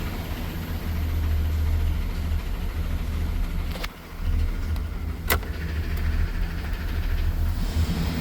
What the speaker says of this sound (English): you can hear the porcelain bouncing around in the cylinder.